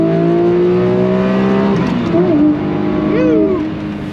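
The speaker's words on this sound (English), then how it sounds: "Downshift a second. We're gonna give it a little rev." A high-end collector car engine, likely an exotic such as a Ferrari F40, Lexus LFA or Aston Martin Valkyrie, revs loudly and close by after a downshift, climbing in pitch then dropping back.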